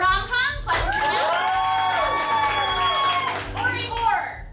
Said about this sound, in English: Rom-com. Clap your hands.